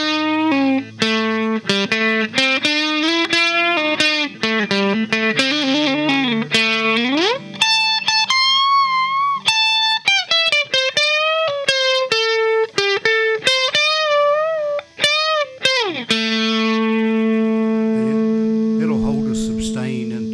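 Skylark 2588 neck-thru electric guitar played through effects, with sustained distorted notes, quick runs, pitch bends and bursts of clean picking, ending on a long held, wavering chord.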